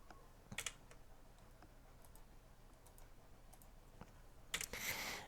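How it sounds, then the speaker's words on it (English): Quiet computer keyboard taps during copy and paste shortcuts, a few sparse isolated clicks scattered over several seconds, with a slightly louder cluster near the end. "I'm going to hit Control-C on the keyboard to copy."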